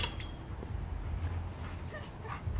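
Dogs whimpering behind a fence, thin high whines and faint yips over a steady outdoor background, moderately close and not very loud.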